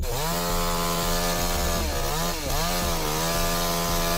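A chainsaw cuts into a tree, its engine droning loud and close in a steady whine that bogs down and revs back up twice as the chain bites the wood.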